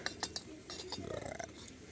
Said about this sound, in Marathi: ही आमची नात तांब्या चमचा घासून धूत आहे